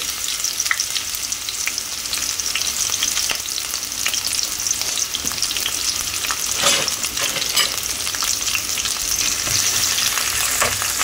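Onions frying in oil with curry leaves, a steady close sizzle with scattered crackles and pops and occasional scrapes of stirring, continuous throughout with no talk.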